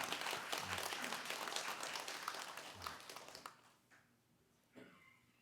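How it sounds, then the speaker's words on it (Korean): A church congregation at a Sunday worship service claps in welcome, a dense round of applause that fades out after about three seconds, followed by a faint short burst. "우리 같이 한번 환영하는 박수 한번 하겠습니다."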